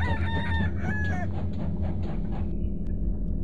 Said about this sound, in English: What was the rooster sound?